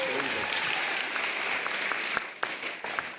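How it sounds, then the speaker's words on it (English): Crowd applauding at a VEX V5 robotics high school state championship at Kettering University, steady clapping that thins out into a few scattered claps. "How about a round of applause for"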